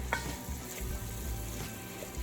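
Chili ingredients with fresh onions stirred in a frying pan, a steady sizzle with scraping spoon strokes and light clinks, close and moderately loud, no talking.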